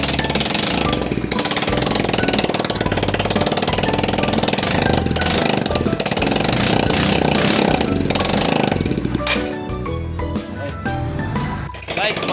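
A Yamaha Mio scooter engine runs loud and close, a continuous rough rattling drone with the exhaust pipe off, then eases toward an idle near the end while someone talks over it.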